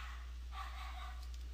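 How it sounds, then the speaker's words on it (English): A dog barks somewhere in a room, a short yip-like burst heard faintly over a steady low electrical hum, with no talking over it. "That's my dog, if you can hear my dog."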